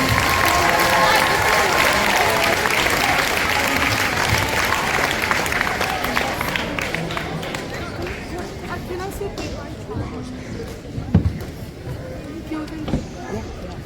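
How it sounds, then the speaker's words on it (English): Audience applause for an elementary school band at an evening band concert in Vancouver, a dense crowd of clapping that starts loud and full, then gradually thins and fades with scattered claps and murmuring voices. "let's give a round of applause to the Shaughnessy Elementary Band, led by Michael Durr"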